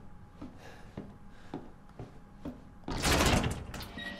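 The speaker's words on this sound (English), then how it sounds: "So that door's gonna close on us." A door in the Resident Evil 7 video game slides shut with a loud, broad grinding rush after a series of regular soft thuds, heard close and alone.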